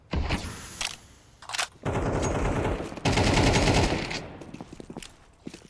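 Rapid automatic rifle fire from a Counter-Strike esports match, several loud bursts of gunshots separated by short pauses, with a long sustained volley in the middle and scattered single shots near the end.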